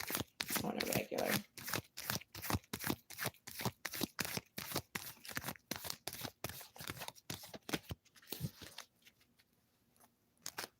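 Tarot cards being shuffled up close in a steady run of crisp riffling flicks that pause briefly toward the end, with no talk over them.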